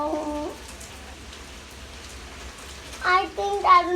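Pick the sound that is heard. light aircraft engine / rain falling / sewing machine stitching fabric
rain falling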